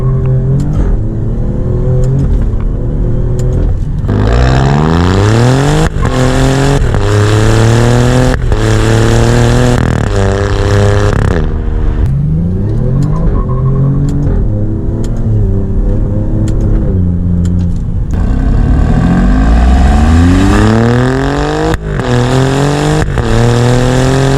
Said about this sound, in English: enjoying this Giulia Quadrifoglio in race mode. Again, this car just brings so many thrills.